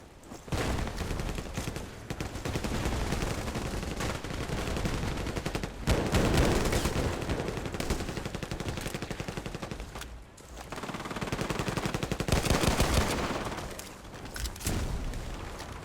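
Sustained automatic fire from an ACW-R gun in a video game, loud and continuous, broken by a couple of brief pauses between long bursts.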